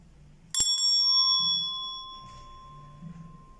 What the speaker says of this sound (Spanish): Vamos a continuar con la marca Rhythm Band Instruments, versión campana de mano.